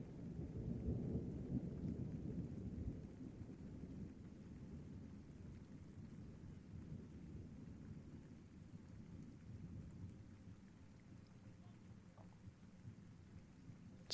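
Steady rain pours over a low, rolling rumble of thunder throughout a thunderstorm, loudest in the opening seconds and then settling into a constant wash of rainfall with no voices.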